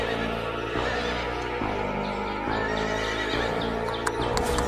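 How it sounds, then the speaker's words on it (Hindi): A horse neighs and whinnies loudly as a merchant rides off, with clip-clop hoofbeats and a few sharp knocks near the end, no speech. "व्यापारी उठकर घोड़े पर सवार होकर चला जाता है"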